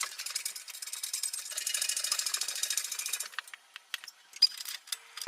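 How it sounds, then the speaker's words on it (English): A DIY press brake attachment bends 3x4 flat bar for custom trailer parts, giving a fast run of close, rhythmic metallic ratcheting clicks that stops after about three seconds, leaving a few sparse, sharp clicks and knocks. "We're going to build them using our DIY press brake attachment."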